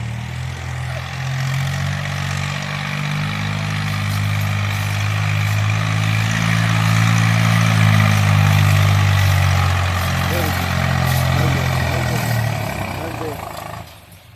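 Tractor engine running steadily and loud throughout, a deep low drone with a rough idle-like throb that swells slightly in the middle before cutting off at the end.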